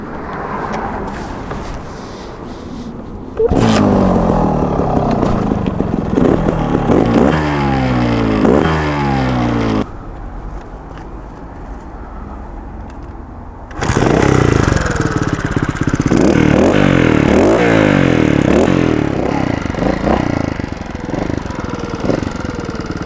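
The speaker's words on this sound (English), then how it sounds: "this is my brother's Beta Evo Factory 300 4-stroke" A Beta Evo Factory 300 four-stroke trial motorcycle engine runs close by, with loud revving bursts and throttle blips separated by quieter idling stretches, no talking.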